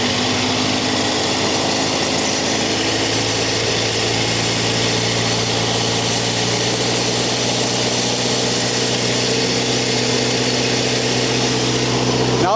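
An engine on a test setup revs up to around 2000 RPM and holds there, a loud, continuous droning hum with a steady pitch, no talking over it.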